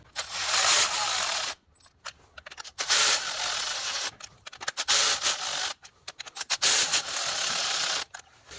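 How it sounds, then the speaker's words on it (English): An electric ratchet snugs down a spark plug on a 2022 Porsche Macan 2.0L, running in short, loud whirring bursts of about a second each, separated by brief silent pauses. "Now you're gonna see me tighten this down with an electric ratchet."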